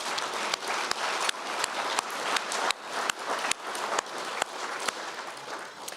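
A fundraising gala crowd for a wish-granting charity applauds in a steady, full round of clapping, with a few sharp louder claps standing out over the sustained wash.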